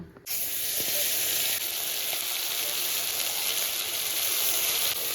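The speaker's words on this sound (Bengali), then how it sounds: "এবার যে মশলাটা আমরা বেটে রেখেছিলাম না, সেই মশলা বাটাটা এবার ওই তেলের ভিতর দিয়ে দেব।" Ground spice paste hits hot oil tempered with nigella seeds for a spicy bata fish curry, bursting into a loud, sustained sizzling hiss after a brief quiet start, close up with no talking.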